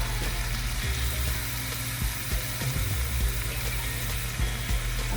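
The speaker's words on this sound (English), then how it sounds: "So I'm going to add a little water to this." Water poured into store-bought jarred pasta sauce in a pan, a steady hissing, sizzling wash of sound running throughout without a break, close and fairly loud.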